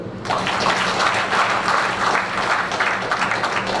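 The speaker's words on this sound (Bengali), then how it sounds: "আপনাদের জন্য একটা এগেন হাততালি হবে" An audience at a public program applauds, with a dense, steady burst of many hands clapping together that starts abruptly and holds at full strength throughout.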